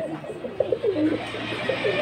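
A pair of Lahori Sirazi pigeons, male and female, coo from inside a cage, giving a few soft, low, rolling calls close by, with steady background hum and no talk.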